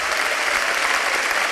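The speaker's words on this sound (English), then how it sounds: "Let's give them a round of applause" Loud, close applause from a church congregation for its pastors, a dense wash of clapping that fills the whole short moment without any talk.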